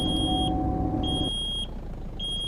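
A low air pressure warning in American Truck Simulator beeps in repeated high-pitched tones over a steady engine hum, with the engine dropping away partway through.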